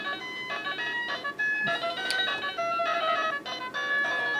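A bright, chirpy electronic jingle from the menu of a PXP3 Chinese clone game console, with simple synth melody and steady repeating phrases, playing continuously at moderate volume.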